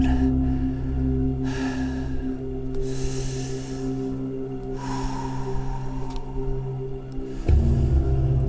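Heavy, labored breathing follows a stormy hike across the volcanic island of La Palma, loud, close gasps and snorting breaths over steady wind noise.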